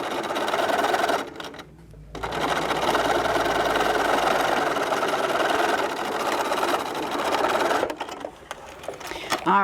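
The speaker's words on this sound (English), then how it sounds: "I'm going to go to the sewing machine, and we're going to stitch that down close to the edge." Sewing machine stitching down the edge of a fabric basket seam, a fast continuous mechanical whirring that briefly stops and restarts, running close and steady for most of the clip.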